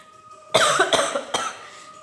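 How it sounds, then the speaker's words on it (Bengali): A woman coughs sharply indoors, three quick harsh bursts close to the microphone against a quiet background. "খুব কাশি আসতেছে"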